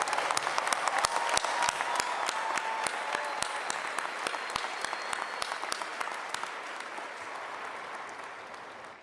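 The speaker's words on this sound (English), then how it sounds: "Please join me in a round of applause for these dedicated Carolina employees" Commencement ceremony audience at a university applauding, a large crowd's sustained clapping with sharp individual claps standing out, steady and then gradually fading away.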